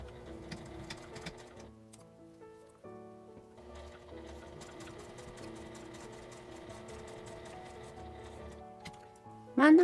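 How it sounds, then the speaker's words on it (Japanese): A domestic sewing machine stitches a small round zipper pouch from one stopper to the other, its fast, even needle chatter running in steady bursts with brief pauses, close up, ending in a sharp loud burst. "留め具のところから留め具のところまでミシンをかけます。"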